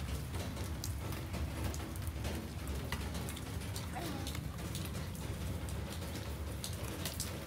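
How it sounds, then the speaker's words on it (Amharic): Rain falling steadily, a fine continuous patter of drops on surfaces, moderately faint and even throughout. "ያው ዝናቡ"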